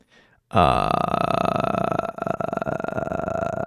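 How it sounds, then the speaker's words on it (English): A long, loud, tonal burp starts abruptly after a brief moment of quiet and rumbles on for about three seconds, close to the microphone. "I didn't think I'd burp there"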